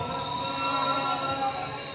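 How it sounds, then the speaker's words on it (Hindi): A passenger train brakes to a stop at Shahdra Bagh Junction in Pakistan, wheels squealing in sustained high metallic tones over a low rumble, fairly close. "और ट्रेन रुक गई है।"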